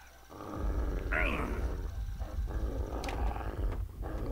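Dogs in the video game Fallout 3 growling and snarling with a deep rumbling roar, accompanied by game sound effects and someone speaking over them.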